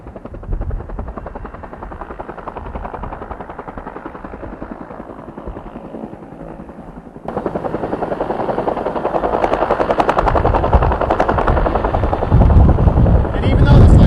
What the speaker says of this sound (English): It's what we call a Type 2 helicopter.